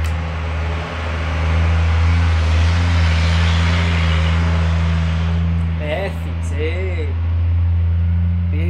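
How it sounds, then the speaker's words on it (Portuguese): A truck rumbles past on the street outside a print shop, a steady low engine drone that swells and fades while someone speaks. "Deixa o caminhão passar."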